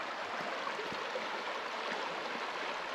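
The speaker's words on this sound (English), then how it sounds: "I'm starting to hear the river down there now." The Nueces River in Texas flows below, a steady wash of rushing water that stays even and moderately loud throughout, with no voices.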